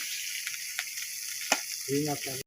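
A hilsa fish head dropped into hot oil gives a steady, close sizzle with a few sharp spits and pops, and a brief scraping stir toward the end.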